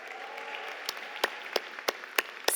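Audience at a college of business graduation convocation applauding, a steady bed of clapping with several sharper individual claps popping out near the end.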